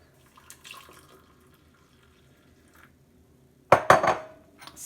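Hot water poured into a cup for a turmeric drink and stirred: a faint trickle, then a short cluster of bright clinks and splashes near the end, close and alone with no talk.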